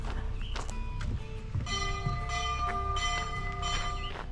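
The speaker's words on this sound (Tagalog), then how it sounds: "nagpatangdang na sila ng bell" A bell rung at a campsite to call people to a meal, with repeated ringing strokes and a sustained metallic tone carrying over steady outdoor background noise.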